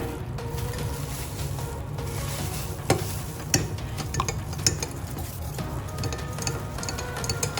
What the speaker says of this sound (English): So now I'm going to stir ingredients together